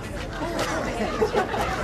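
A crowd of school children chattering, a continuous, fairly close babble of many overlapping young voices with no single voice standing out.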